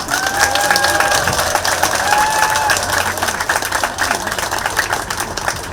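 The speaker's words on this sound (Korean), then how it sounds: "이분들 위해서 박수 한번 보내주시기 바랍니다" Applause from the crowd at an outdoor memorial ceremony marking the first anniversary of General Paik Sun-yup's death, sustained loud clapping with scattered cheers that holds steady and then eases slightly toward the end.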